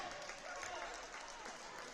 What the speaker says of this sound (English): You hear the crowd trying to encourage her.